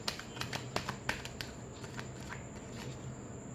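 Tarot cards are shuffled by hand, a quick run of soft, close riffling flicks and snaps that thins out toward the end, faint under a steady background hum.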